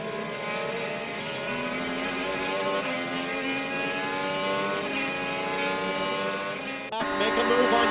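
IndyCar race car onboard during a 2021 race, engine screaming loud and close with a steady high-pitched whine that shifts down under hard braking, then a sharp change near the end; commentators talk over it.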